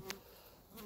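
A brief, faint buzz of honey bees in a colony, a soft steady drone with slight flickers in pitch, heard alone for under a second.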